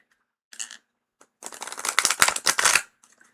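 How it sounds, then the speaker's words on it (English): A deck of oracle cards gets a soft shuffle: a short riffle, a pause, then a longer burst of crisp papery flutters that fades out. It is close and there is no talk. "Oh, it's a soft shuffle."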